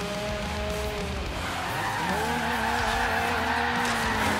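A car drifts in Forza Horizon 3, with tires squealing in long sustained screeches over a loud engine drone. The squeal keeps changing pitch as the slide goes on.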